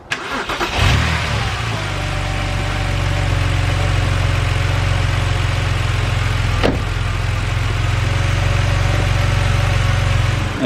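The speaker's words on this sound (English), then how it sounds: "Now let's get this thing fired up and get it up to temperature again." A BMW N52 engine starts and settles into a steady idle, a loud, continuous low hum that stays even for about ten seconds after a brief cranking burst, with no talking.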